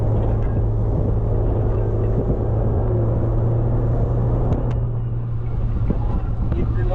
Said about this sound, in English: That exhaust of it sounds amazing.